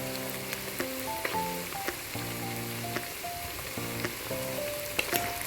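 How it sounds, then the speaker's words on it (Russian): Onions and meat fry in a pot for plov, giving a soft, steady sizzle with faint stirring, quiet and close, while sustained musical tones sound over it. "будем жарить еще где-то минут 9-10, чтобы вся лук наша стал такой красно-золотистый, ближе к коричневому"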